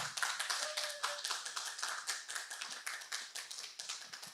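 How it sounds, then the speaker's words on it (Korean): Audience applause welcoming a speaker at a church mission conference: continuous, fairly dense clapping from a modest crowd, even and sustained, somewhat faint and heard alone. "여러분 큰 박수로 맞이해 주길 부탁드립니다"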